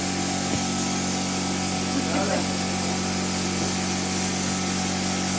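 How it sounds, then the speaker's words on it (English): A steady, loud hiss of a texture sprayer spraying a wall fills the space continuously, with a low mechanical hum underneath and faint voices. "they're spraying that texture on the wall"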